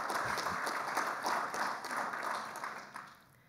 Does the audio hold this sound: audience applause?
yes